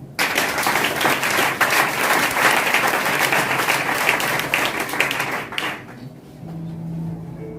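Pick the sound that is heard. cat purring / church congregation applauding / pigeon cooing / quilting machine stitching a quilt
church congregation applauding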